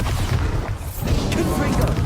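Bombarda blasting spell in Hogwarts Legacy lands as a booming, rumbling explosion with heavy low thud. It runs continuously through the short moment, mixed with game effects.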